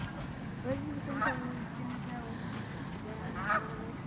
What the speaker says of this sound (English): We've got several flocks of geese out here,